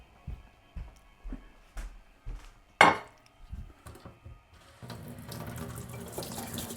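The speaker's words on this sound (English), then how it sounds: "Okay, so let's rinse off the plate." Dishes and cutlery clink in a sink, with a sharp clatter midway, before the tap opens and water runs steadily over a plate being rinsed, close and alone without speech.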